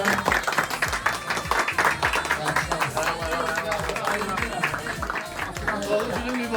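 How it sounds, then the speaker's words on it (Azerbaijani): Family birthday celebration where clapping from a small group rises under singing and several voices talking, steady and close throughout. "alkışlar gelin ya"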